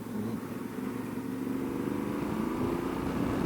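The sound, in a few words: Yamaha Ténéré 700 motorcycle engine revving hard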